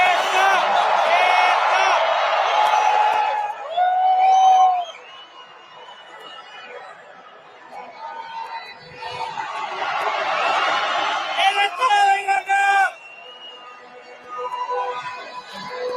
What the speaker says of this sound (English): Listen how fucking hot that crowd is.